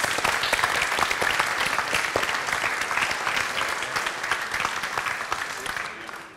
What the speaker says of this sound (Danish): det synes jeg godt, vi kan give et lille klap for